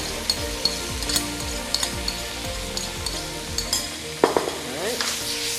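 Steady loud sizzling of sauce and vegetables in a frying pan for sweet and sour chicken, with occasional stirring scrapes and clinks over the continuous hiss.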